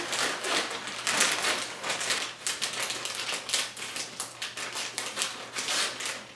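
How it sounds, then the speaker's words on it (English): Rapid crisp snipping and crinkling as large scissors cut open plastic packaging, steady and close, with sharp clicks in an uneven rhythm. "I'm gonna try to get into it with probably the biggest scissors I could find"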